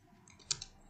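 A few light keystrokes on a computer keyboard, two or three soft clicks close by in a quiet room.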